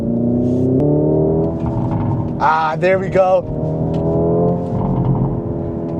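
Hyundai Ioniq 5 N electric performance car in N mode, its synthetic engine note droning steadily while accelerating, then a burst of crackling pops and burbles mid-way, close and loud, with a short spoken remark near the start.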